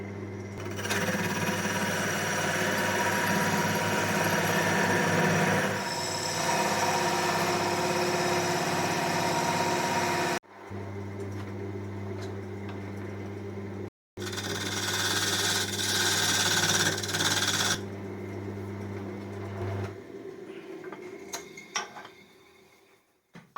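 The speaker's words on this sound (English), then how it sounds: "So now I'm going to drill the centre out." A lathe drills out the centre of a laurel wood workpiece with a loud, steady whirring grind over a low motor hum, pausing briefly twice before winding down near the end.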